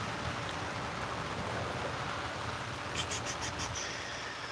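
Steady rain falls on an outdoor swimming pool, a dense, even hiss of drops hitting water that runs unbroken from start to finish, with a few faint higher ticks late on.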